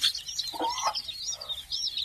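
A country hen clucks in short bursts while her chicks' high, thin chirps and peeps chatter continuously close by.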